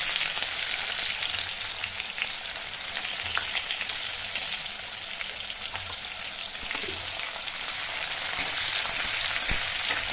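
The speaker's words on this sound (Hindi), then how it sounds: "ऑयल गर्म हो गया, मैं इसमें जीरा डाल रही हूँ और फिर प्याज," Cumin seeds and onions frying in hot oil for a Bengali-style fish curry give a dense, steady sizzle with crackling pops that runs unbroken throughout, with no voices.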